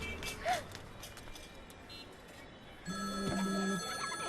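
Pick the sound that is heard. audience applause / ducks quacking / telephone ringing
telephone ringing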